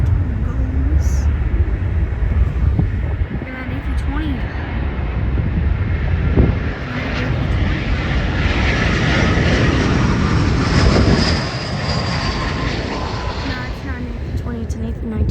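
An Airbus A319 airliner passes at SeaTac airport with a broad, loud jet roar that swells and fades, with voices talking over it.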